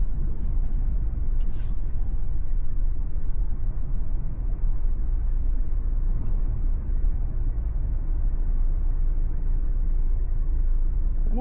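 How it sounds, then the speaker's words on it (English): An unusual-sounding truck rumbles along the road nearby, heard from inside a moving car, a steady low engine and road drone that holds for the whole stretch. "that doesn't sound like a regular truck"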